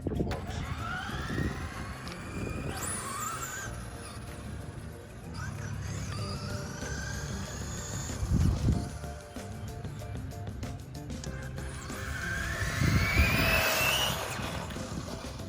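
A Traxxas Slash RC truck drives about, its motor whining and whirring in rising and falling sweeps as it speeds up and slows down. Several bursts come close and loud, and a voice talks now and then.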